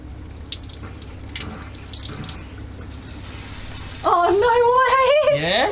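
Water gushes from a campervan shower with the pump running, a steady rushing spray under faint background sound, jumping louder partway through as the flow starts, with a voice rising over it.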